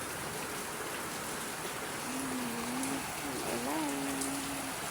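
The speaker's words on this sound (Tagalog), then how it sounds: "Maulan siya." Steady rain falls outdoors around potted plants in a dense, even hiss, close and constant, while a voice speaks softly partway through.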